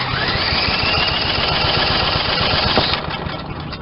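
A lawn mower engine cranks steadily for a compression test, its rapid rhythmic chugging loud and close for about three seconds before it slows and stops.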